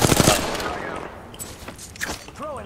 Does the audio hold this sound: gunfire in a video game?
yes